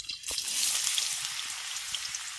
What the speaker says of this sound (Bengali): তারপর আমি ওই তেলের মধ্যেই দিয়ে দিচ্ছি কুচিয়ে রাখা গাজর